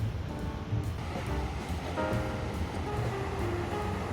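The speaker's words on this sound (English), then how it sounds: "Our guide brought us here to Nusa Dua, the first beach in our trip." Ocean surf rolling onto Nusa Dua beach in southern Bali, a steady continuous wash of waves with a broad rushing texture and no voices, moderately loud throughout.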